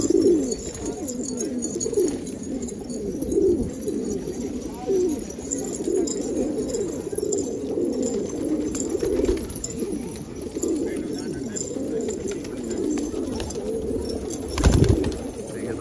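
Close, steady cooing from pigeons, a low throbbing warble running throughout with a brief louder burst near the end, and no voices over it.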